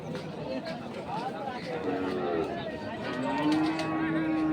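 Cattle moo at a Chattogram market selling large bulls for Qurbani, with a long low bellow rising near the end over steady crowd chatter and nearby voices.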